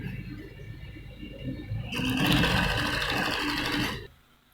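A sewing machine runs in a steady two-second burst while stitching the side seam of a kameez, a close, even whirring hum that stops abruptly.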